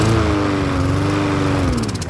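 A Troy-Bilt lawn mower with a dirty carburetor runs on its own, a loud, close, steady engine drone whose pitch sags slightly before the engine sputters near the end.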